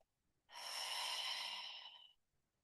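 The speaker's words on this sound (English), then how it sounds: "breathe deeply." A single deep, slow breath, a soft airy rush that swells in and fades over about a second and a half in a quiet room, with no talking.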